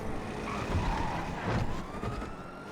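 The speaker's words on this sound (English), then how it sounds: "I hear those sirens" Emergency sirens wail with a rising and falling tone, moderately loud over a rumbling background of traffic.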